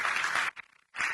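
Church congregation applauding, a dense patter of many hands clapping that breaks off into a short near-silent pause before resuming.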